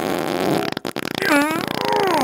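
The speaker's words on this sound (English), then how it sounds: "cause I'm about to fart." A loud, sputtering fart tears through with rapid flapping pulses that rise into a drawn-out, squeaky tonal blast, set against a musical backing track.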